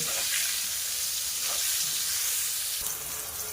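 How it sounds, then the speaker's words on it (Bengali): Pointed gourd (potol) slices frying in hot oil with salt and turmeric, a steady dense sizzle with bubbling crackle throughout, close and fairly loud, briefly easing near the end. "লাল লাল করে পটল ভেজে নিয়েছি।"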